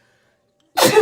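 A single sharp, loud sneeze bursts out near the end after a second of near silence.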